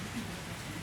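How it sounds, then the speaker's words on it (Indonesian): Rain falls steadily outdoors, a soft, even hiss of drops on surfaces with a low rumble beneath, fairly faint and continuous. "Ini aku liatin kalau hujan"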